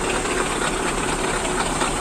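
The V8 diesel engine of a Caterpillar 773E off-road haul truck runs with a dense, steady roar and broad hissing airflow, heard up close with no talking.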